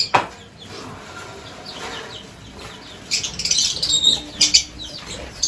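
Pigeons in a lovebird colony flap their wings and chirp while being fed chickpeas, with brief flurries of wingbeats and scattered high tweets, busiest near the end, and no talking.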